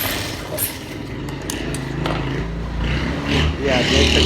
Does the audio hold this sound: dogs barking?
no